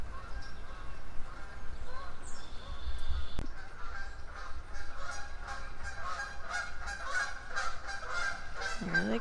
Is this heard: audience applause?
no